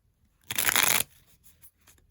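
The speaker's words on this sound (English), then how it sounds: "Let's do one more shuffle" A single brisk shuffle of a tarot deck, a dense papery riffle lasting about half a second, close and fairly loud, followed by faint card handling in a quiet room.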